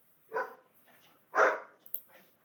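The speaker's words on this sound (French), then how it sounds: "C'est mon chien qui aboie derrière" A household dog barks in the background of a room, two fairly muffled, moderately distant barks about a second apart with a faint sharp yelp after.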